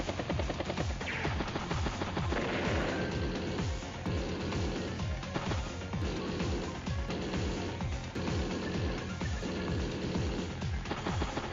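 Rapid repeated tank cannon and machine-gun bursts in the turn-based strategy game Advance Wars: Days of Ruin, with a steady, dense pattern of loud synthetic gunfire hits and explosions throughout.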